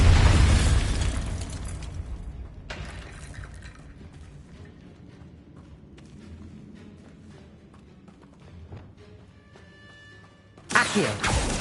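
A magical Bombarda blast goes off in the Hogwarts Legacy game, a loud burst at the start that fades into a long rumbling tail, with another sharp burst near the end.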